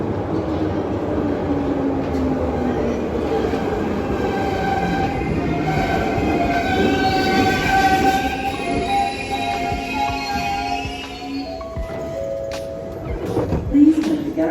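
A Glasgow Subway train runs on the underground line, a loud, continuous rumble with squealing wheels throughout, ending in a few sharp clunks near the close.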